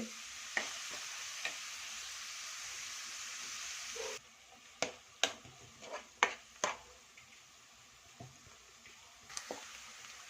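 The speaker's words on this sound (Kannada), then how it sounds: "ಈರುಳ್ಳಿ ಮಾತ್ರ ಇದು ಸ್ವಲ್ಪ ರೋಸ್ಟ್ ಆಗಲಿ" Chopped onions frying in a pan for egg masala, a soft sizzle with distinct spoon-stirring clicks and scrapes, several in quick succession after a quieter opening, no speech.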